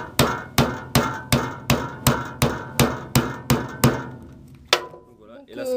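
A small nail, a little point, is hammered into wood with about eleven sharp, evenly spaced close strikes, then a pause and one last blow, followed by faint handling noise.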